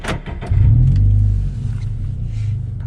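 A Scion FR-S with a manual gearbox starts up, a brief cranking stutter followed by the engine catching with a loud low roar, then settling into a steady close idle rumble.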